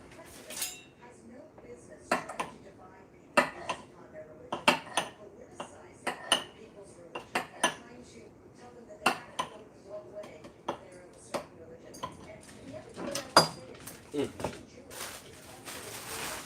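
Dishes and bowls clinked and set down in a home kitchen while making keto pho, with sharp irregular clatters of ceramic and cutlery spread through the stretch, close and moderately loud, and a voice speaking in between.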